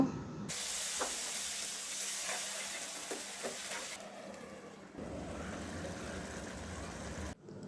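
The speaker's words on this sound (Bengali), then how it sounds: "মাছ আর বেগুন ভাজা হয়ে আসছে এখন জল দিয়ে দেব" Water hits a hot pan of frying baim fish and eggplant, setting off a sharp burst of loud sizzling and steam hiss with scattered stirring clicks, then the sizzle settles lower and keeps bubbling until it cuts off abruptly.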